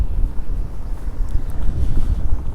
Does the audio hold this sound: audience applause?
no